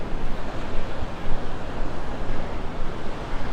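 Surf rolls in on Vanderbilt Beach in North Naples, Florida, under a south-southwest wind, forming a constant, close roar of waves mixed with gusty wind buffeting the microphone and no voices.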